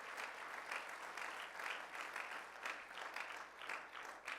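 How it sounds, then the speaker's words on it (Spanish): A church congregation applauds in praise during a sermon, a quiet, somewhat distant wash of clapping that pulses in gentle waves with no talk over it. "¿Puedes darle un aplauso de alabanza a Él ahora sí?"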